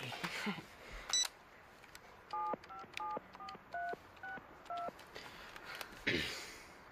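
Touch-tone keys beep one by one as a telephone number is dialed for a prank call, about ten short clear tones in an uneven rhythm over faint room noise, with a click at the start and a handset rustle at the end.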